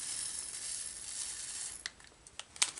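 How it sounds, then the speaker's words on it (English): Tiny diamond painting drills poured into a small plastic bag: a faint, soft hiss of beads sliding, then a few light ticks and rattles as they settle, close and quiet, no talking. "and I'll just pour the drills into the bag"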